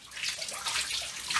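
Bathwater drains out of a tub after hand-washing clothes, a steady close gurgling and hissing wash of water running away, continuous and fairly loud with no voices.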